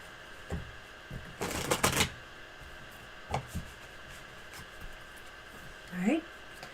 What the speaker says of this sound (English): helping me shuffle the cards